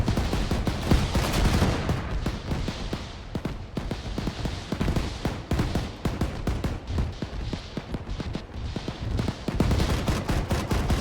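An anti-aircraft gun fires indiscriminately skyward in Arma 3, a loud, rapid stream of heavy rounds with thumping bursts that continue steadily without pause and with no voices.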